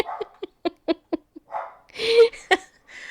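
Dog noises near a courthouse lawn: a rapid series of short, sharp yips and barks, then a longer whining note, close and clear with little else around.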